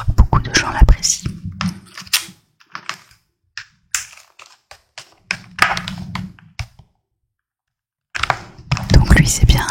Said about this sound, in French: c'est bien un clavier de la marque Klim